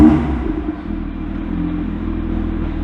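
A 500 hp BMW M2 engine fires up with a loud rumble in an enclosed space, then settles into a steady, deep idle.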